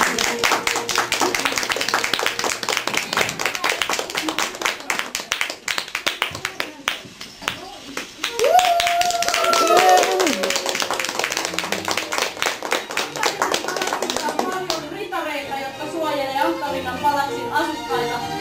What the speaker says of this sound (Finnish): Te voisitte antaa oikein raikuvat aplodit Ankkalinnan palatsissa.